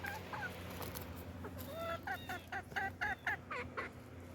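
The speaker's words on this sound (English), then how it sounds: "Got the chickens out." Chickens let out of their coop cluck in a quiet yard, a faint series of short clucks that grows quicker and more regular toward the end.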